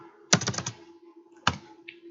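Java code being typed on a computer keyboard comes through as two short bursts of crisp, close key clicks, a quick flurry followed by a single cluster, with a quiet steady hum between them.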